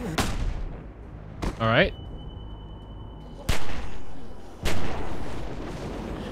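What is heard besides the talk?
gunshots in The Walking Dead Season 2 video game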